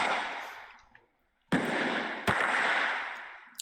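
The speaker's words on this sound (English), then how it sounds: "Fireworks in the crib is utterly insane." Fireworks going off indoors in a house during a firework war: sharp cracks followed by long, loud hissing bursts of sparks, with a brief silent gap between salvos and a final pop at the end.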